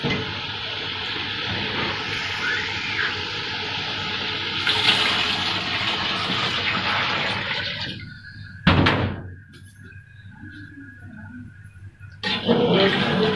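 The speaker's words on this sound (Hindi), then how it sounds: "अब इसमें हम पानी डालेंगे।" Water poured into a pot of cooked chicken korma for degi pulao, a steady rushing splash lasting several seconds, then a short louder splash and a quieter trickle.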